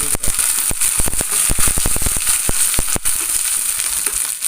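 Chopped small shallots and curry leaves fry in hot oil, giving a loud, close, dense sizzle packed with rapid snapping crackles throughout. No voices are heard.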